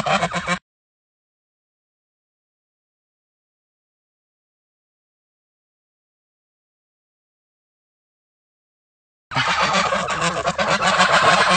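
Geese honking at close range, a burst of harsh calls at the very start, then long silence before a dense, loud run of honks near the end.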